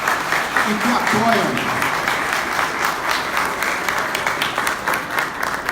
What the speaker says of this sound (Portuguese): gostaria de pedir dos senhores uma salva de palmas para todos esses senhores que estão aqui